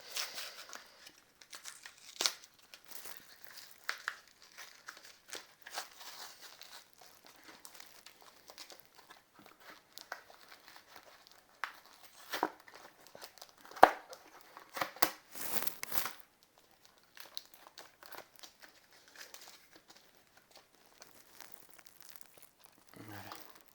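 Pokémon Sword and Shield tripack packaging is torn and crinkled open up close, with scattered bursts of plastic crackling and ripping at irregular intervals, soft overall.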